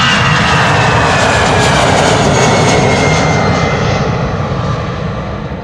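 A Croatia Airlines jet airliner at Schiphol Airport sends out a loud, sustained engine roar, heard up close and steady before it gradually fades.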